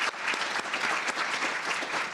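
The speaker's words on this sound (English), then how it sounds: "I would like to extend another round of applause to Dr." An audience at an education legislative conference applauds a speaker, a moderately loud, even wash of many hands clapping with no gaps across the short stretch.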